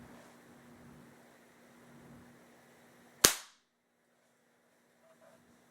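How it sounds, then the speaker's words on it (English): A single sharp, loud crack from a 10-pump BB gun being fired, a sudden burst that decays quickly, followed by near silence with faint movement after. "A 10 pump BB gun."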